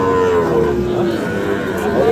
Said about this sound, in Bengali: শাহিওয়াল জাতের বাছুর গরুগুলো।